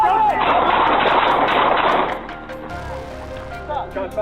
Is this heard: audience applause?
no